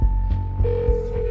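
A loud electronic telephone ring, a pulsing tone that repeats in quick bursts, close and alone without any talking.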